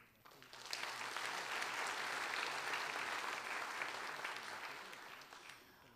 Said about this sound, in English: Please give a big round of applause, Ms. Kano and Mr. Hakobian